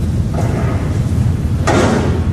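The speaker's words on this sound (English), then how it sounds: "Someone is banging on a stairwell door," Someone banging on a stairwell door high in an office tower: a heavy slam or thud booms out over a loud, constant background rumble, with a fainter knock just before.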